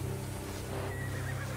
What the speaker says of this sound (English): I have no idea how to mount a horse.